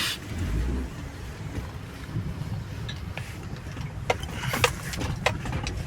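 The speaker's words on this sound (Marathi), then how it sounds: "पार्किंग करूया गाडी" Car engine idling and rumbling low while parking near a temple, steady and close with some wind noise and a few sharp clicks and knocks toward the end.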